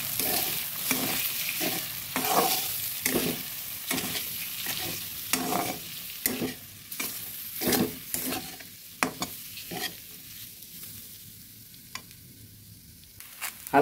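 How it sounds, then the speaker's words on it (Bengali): Sago pearls frying in hot ghee for sabur payesh, stirred with repeated scraping strokes of a spoon against the pan over a steady sizzle, close and alone. "আমি এবার সাবুগুলো দিয়ে দিচ্ছি। ঘিয়ের মধ্যে সাবুগুলো হালকা করে ভেজে নেব।"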